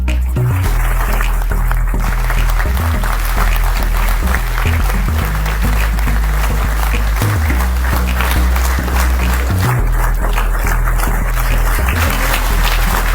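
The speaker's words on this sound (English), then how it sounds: "Can we keep the applause going?" An audience at a DevFest developer conference keeps up long, steady applause for the event volunteers, a continuous clapping wash over a loud, pulsing low music bed.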